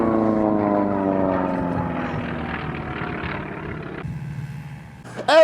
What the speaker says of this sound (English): Aeroplane, look!